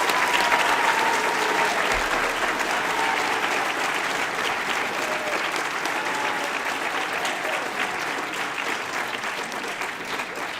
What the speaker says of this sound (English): Let's give him a big round of applause for being here today.